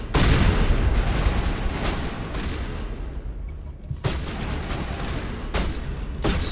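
Sustained gunfire fills a Mass Effect firefight, loud and dense, with rapid bursts and booming shots that barely let up, a short lull midway before the volleys resume.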